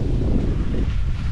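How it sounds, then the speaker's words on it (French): Steady wind rushes at sea aboard a sailboat running in 13 to 15 knots of breeze, a continuous broadband roar buffeting close to the microphone with no voices. "On fait une moyenne entre 5 nœuds, 5 nœuds 5, hein, avec entre 13 et 15 nœuds de vent au grand large, 120 degrés."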